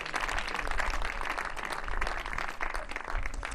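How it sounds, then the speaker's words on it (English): A Spanish crowd at a junior tennis match, the Billie Jean King Cup semi-finals, applauds and cheers in a steady, dense wash of clapping that stays even from start to finish. "with a roar from the Spanish crowd"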